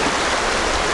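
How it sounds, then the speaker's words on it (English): The West Gallatin River in Montana flows in a loud, steady, close rush of water with no voices over it. "Well, this looks like a pretty good spot. I'm on the West Gallatin River,"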